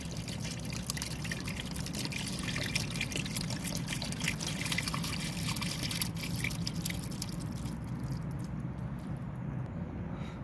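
Fluid poured through a small funnel into the pressure hose of the diesel particulate filter on an Audi A4, a steady close trickle and splash that keeps going for several seconds, then tapers off near the end.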